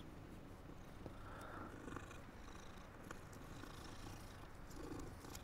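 A cat purrs steadily in the video game Hogwarts Legacy, a soft, continuous low rumble at a quiet level with faint game ambience around it.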